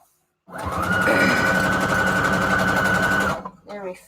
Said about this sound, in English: Now that I'm better about sewing around the edge, like a little bit more evenly